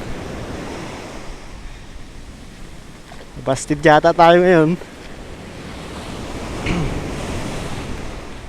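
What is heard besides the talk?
big sea waves during a typhoon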